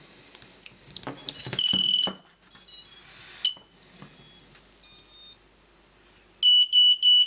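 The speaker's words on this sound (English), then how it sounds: "There we go, we've got the beeps and we're away." A series of high electronic beeps and tone bursts from a Happymodel Mantis 85 Mini brushless racing drone starting up, some short and some longer, with brief gaps and a quick triple beep at the end.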